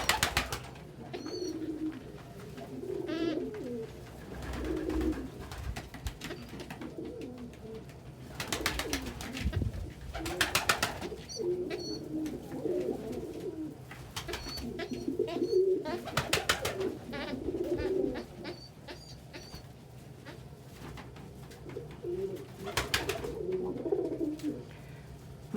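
Pet doves coo indoors, soft repeated low cooing phrases in clusters with short pauses, joined by occasional faint chirps and small rustles.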